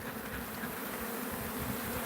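Honey bees from a small hive buzz around a beekeeper in a dense, steady drone that stays close and fairly quiet, with no voices.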